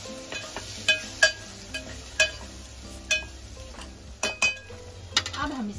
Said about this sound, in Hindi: अब डालेंगे टमाटो मसालों के साथ टमाटो को अच्छी तरह से भूनेंगे